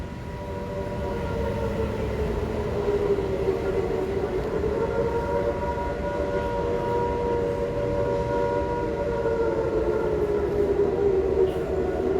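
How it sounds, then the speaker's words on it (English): An air raid siren's long, wavering wail sounds steadily over a constant low rumble, its pitch slowly rising and falling throughout without pause. "In Hiroshima, an air raid siren sounds at 6 a.m."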